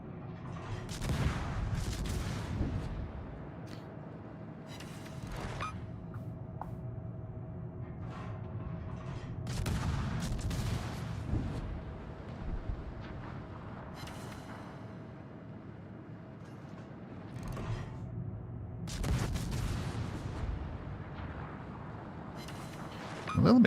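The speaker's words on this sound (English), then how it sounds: "that explosion just scared the shit out of me" Naval explosions from World of Warships game combat, a few heavy broadband blasts spaced several seconds apart over a continuous rumbling battle backdrop.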